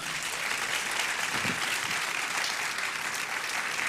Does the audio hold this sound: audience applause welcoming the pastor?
yes